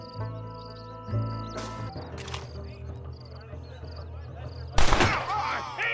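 Gunfire from the Western video game Red Dead Redemption: a couple of sharp shots early on, then a loud burst near the end, set against a steady music and ambience bed.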